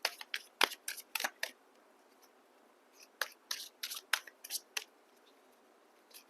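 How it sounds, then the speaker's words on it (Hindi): Tarot cards are shuffled by hand in a quiet room, giving sharp riffling bursts in two clusters with a short lull between them. No voices are heard. "अब कुछ और कार्ड्स में लेती हूँ"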